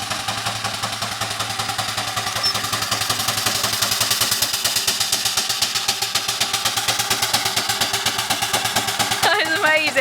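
A 4 inch scale Burrell steam traction engine on its first steam run, chuffing in a fast steady rhythm close by and loud, with people's voices faintly underneath.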